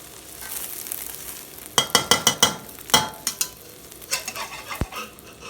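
Thai omelette frying in a pan, with a steady sizzle broken by a run of sharp clinks and scraping strokes as it is stirred and lifted, then softer scrapes near the end.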